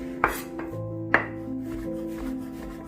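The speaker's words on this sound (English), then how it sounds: "I'm not going to cut these up too small because I'm going to really quickly saute them" Knife chopping vegetables on a board, prepping them in larger pieces for a quick sauté: two distinct close chops over a low background hum, with softer cutting sounds between, no talk.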